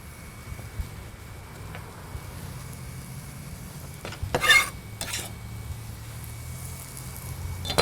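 Chopped onion added to a cooking pot and stirred, quiet low frying with a couple of sharp clanks and scrapes of a utensil against the pot midway.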